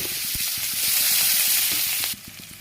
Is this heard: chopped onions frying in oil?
yes